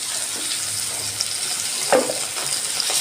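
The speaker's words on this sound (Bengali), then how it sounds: "আমার তেলও গরম হয়ে গেছে আমি মাছটা দিয়ে দিচ্ছি" Fish sizzles steadily in hot oil in a home kitchen pan, a constant close crackle with a brief louder burst of spatter near the middle, no talking.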